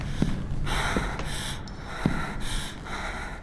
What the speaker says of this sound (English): I want to hear heavy breathing in my ears.